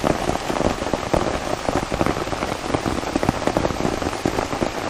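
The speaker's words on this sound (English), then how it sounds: "there's much more frequent rain coming through now." Heavy rain drums steadily on an umbrella during a downpour in Mooresville, North Carolina, near Lake Norman, a dense close patter of drops with no talking.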